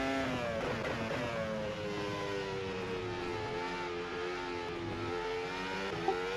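Formula 1 car engine in a racing simulator game on the Baku street circuit, a loud, continuous high-pitched whine whose pitch sweeps up and drops with quick gear changes, alone without talk.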